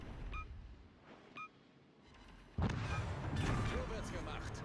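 Naval artillery fire at an enemy warship in a game: heavy booming salvos swell and rumble, with a beep and some background game sounds.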